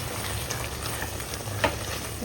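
Tomato chutney fries in a pan on a home stove, giving a steady low sizzle with occasional small pops and crackles throughout, close and even, with no talking.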